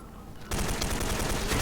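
Turret gunfire in the PC game S.K.I.L.L Special Force 2, a loud rapid burst of automatic shots that starts abruptly after a quiet moment and continues steadily to the end.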